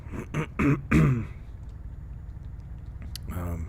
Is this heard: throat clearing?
yes